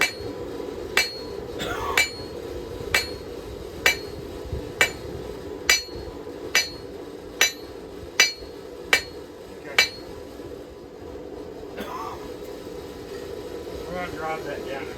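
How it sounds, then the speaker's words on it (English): Hammer blows on a hand-forged knife blank, beating the end into a bevel: about a dozen sharp metallic strikes at a steady, roughly one-per-second rhythm, ringing over a constant hum, with a voice talking briefly near the end. "Whack that down into a bevel on the end."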